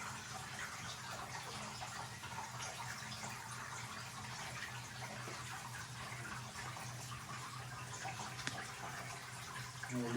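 Water runs steadily into one chamber of a frag tank, a constant broadband rushing flow that holds at an even level for the whole stretch with no talk over it.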